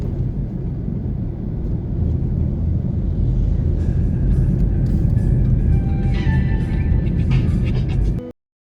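A car drives along Red Hills Road in Jamaica, its steady low road and engine rumble loud and continuous until it abruptly cuts off near the end.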